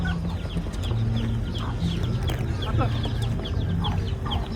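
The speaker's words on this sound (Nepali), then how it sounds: "त्यो वन कुखुरा हो यता त लोकल कुखुराहरू सब लोकल कुखुरा" Many local chickens cluck continuously close by at a market in America, a busy overlapping chorus of short calls over a low steady background, with faint voices mixed in.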